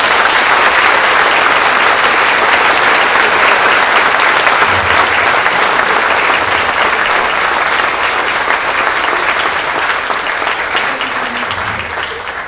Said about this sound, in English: A round of applause for these incredible team members.